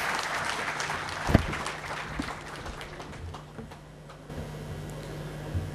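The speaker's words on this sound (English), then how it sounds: "So a huge round of applause for Mr. Finnick." A conference audience at the Vibrant Gujarat event gives a round of applause, a dense steady clapping from a large crowd that slowly thins and fades toward the end.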